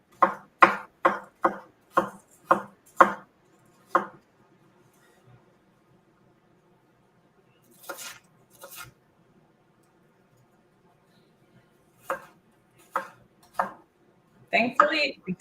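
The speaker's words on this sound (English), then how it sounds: "because onions are in layers, it makes it really easy to like chop them" An onion being chopped with a knife on a board: a quick run of about eight sharp, close chops, a long quiet pause, then a few more chops near the end.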